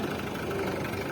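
A farm tractor engine idles steadily in a rural desert area, a faint low rumbling drone with no talk over it.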